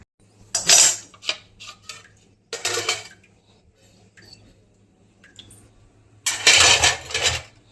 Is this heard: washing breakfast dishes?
yes